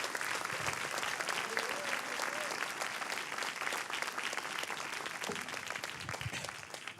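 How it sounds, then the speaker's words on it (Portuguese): A church crowd breaks into sustained, dense applause for a full seven seconds, loud and continuous, with faint voices and a brief shout mixed into the clapping. "dá uma salva de palmas a Jesus"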